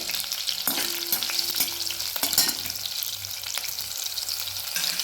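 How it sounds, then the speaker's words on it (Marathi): Green chili pieces fry in a pan with a strong, continuous sizzle close up, broken by sharp spatula scrapes and clicks as they are stirred, with no voices. "मिरच्यांचे तुकडे आहेत ते टाकून घ्यायचे. अर्धा मिनिट परतून घेऊया."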